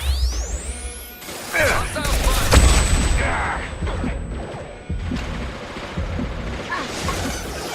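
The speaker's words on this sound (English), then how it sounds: "Taking heavy fire!" Heavy gunfire in the Mass Effect 2 shooter game comes as loud, dense bursts of shots and crashing impacts, mixed with a rising whine and a sustained high tone, near and continuous across the scene.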